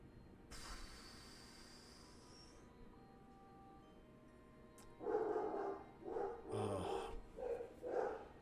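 A dog growls and barks in several short bursts at moderate distance, following a quieter stretch with a steady high whine.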